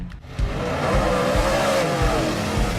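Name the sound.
race cars at Mountain Motor Speedway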